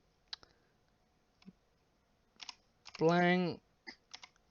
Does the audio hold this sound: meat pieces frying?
no